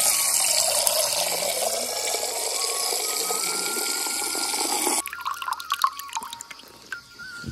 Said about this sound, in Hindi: पानी भर लेते हैं पहले।